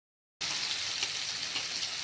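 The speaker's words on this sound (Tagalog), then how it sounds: "Tapos ipiprito ko naman yung sitaw. Bagyang prito lang." Loud, steady sizzling of string beans frying in a hot pan starts abruptly after a brief silence, crackling continuously with no talking.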